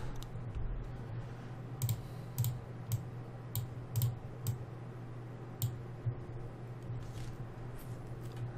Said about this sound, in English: Now right click